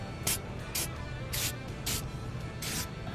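Short bursts from a spray can apply a protective coating during maintenance on a John Deere MoCo 1219 hay cutter, five quick hissing sprays spaced about half a second apart, close and fairly crisp over low background rumble.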